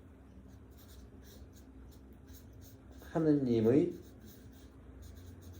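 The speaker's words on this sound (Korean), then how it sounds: "내가 한번 써볼게요." Chalk or marker scratches across a board in a short burst of squeaky strokes while a man lectures in Korean, his voice continuing quietly around the writing.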